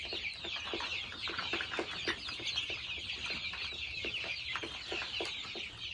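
Chickens cluck continuously at a farm, a dense, steady flock chatter with repeated short calls close by, no voices.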